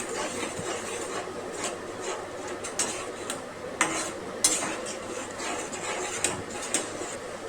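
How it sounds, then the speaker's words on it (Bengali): Beaten sour yogurt and onion-cashew paste stirred into masala in a pan for an egg korma: soft scraping and stirring strokes with occasional light clinks of a spoon against the pan, close and fairly quiet, no talk. "এবারে দিয়ে দেব ফ্যাটানো টক দই। ভালো করে মিক্স করে নেব।"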